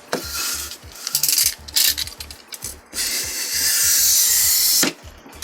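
A sharp knife drags through a foam or card sheet while a rectangle is cut for desert scatter terrain, close scraping strokes in short bursts followed by one longer steady rasping pass.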